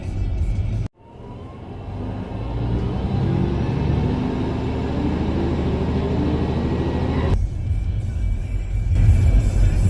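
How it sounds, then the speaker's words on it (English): Car driving into a small town, a steady close interior road rumble and engine drone that swells after a brief cut near the start, with no talking. "Just gonna drive, video us driving into the town."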